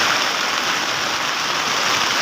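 Heavy monsoon rain pours down on Mandani village in Maharashtra, a dense, loud, unbroken roar of water close by.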